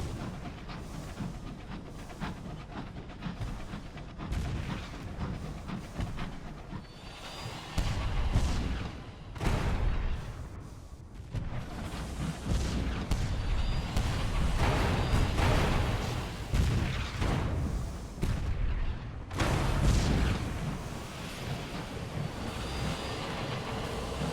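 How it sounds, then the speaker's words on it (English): Distant fighting and cannon fire rumble through the video game Sunless Skies, a dense low roar with repeated heavy booming swells, alone without talk. "I can hear fighting going on."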